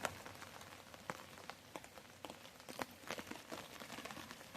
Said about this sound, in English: It's raining and it's not the greatest weather.